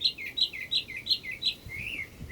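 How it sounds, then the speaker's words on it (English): Birds chirp and sing in a garden around noon in late April, a run of bright, repeated tweeting phrases close by with a faint low background rumble and no talking. "Just listening to the birds."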